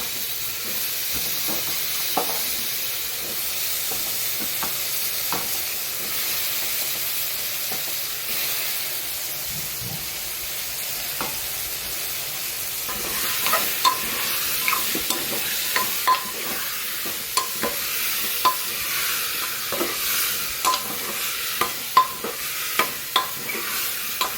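Vegetables frying in a pan give a steady close hiss, while irregular scraping and knocking strokes of stirring grow more frequent toward the end, with no talk.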